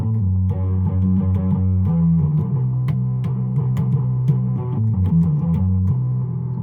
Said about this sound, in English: That's just the bass big muff and the reverb